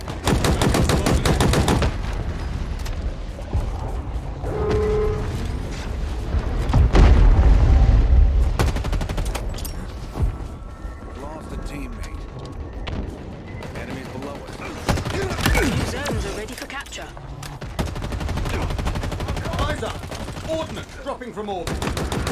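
Sustained machine gun fire in the shooter Halo Infinite during a Big Team Battle match on the Fragmentation map, continuous rattling bursts mixed with explosions and battle clutter throughout.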